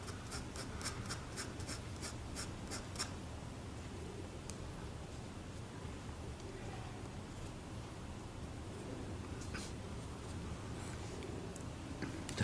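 A 4B pencil drawing lines on paper: quiet, close scratchy strokes, with a quick run of rhythmic tapping marks at the start, then continuous soft shading scratches.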